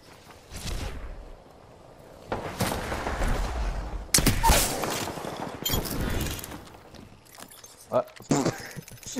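Video game gunfire comes in several clustered bursts and sharp cracks, some loud and close, separated by quieter gaps, with a player talking intermittently between and over the shots.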